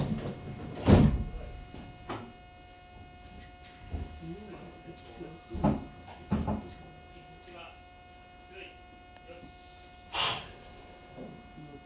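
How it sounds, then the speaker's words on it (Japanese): A Meitetsu Bisai Line train's doors close on the run from Fuchitaka to Tsushima, with a few dull thumps and hissy bursts over a steady electrical hum inside the carriage, while an onboard announcement plays. "ドアを閉めます。 ご注意ください。"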